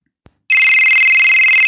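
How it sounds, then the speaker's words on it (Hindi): A custom-made phone ringtone starts playing after a soft click, a loud, sustained electronic ring with bright steady tones. "तो ये है वो रिंगटोन"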